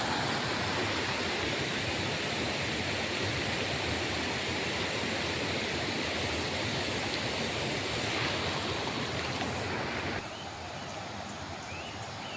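Flooded Kurdhe river water rushing continuously as a loud, steady broadband roar close by, dropping slightly in level near the end, with no talking.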